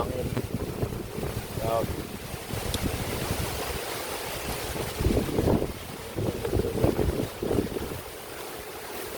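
Strong wind blows outdoors near fruit trees, a steady rushing roar buffeting the microphone, with brief spoken words and a few rustling bursts.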